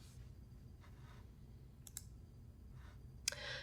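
A computer mouse clicks the X button to close a window on a Windows PC. A few faint, crisp clicks are spread across a quiet background hum, with a slightly sharper click near the end.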